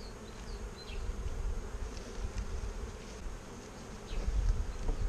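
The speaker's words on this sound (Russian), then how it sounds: "пчелы обсиживают хорошо рамку" Honeybees crawling over a full brood frame at an apiary hum in a constant low drone, close but faint, with an occasional single bee buzzing past and faint rustling.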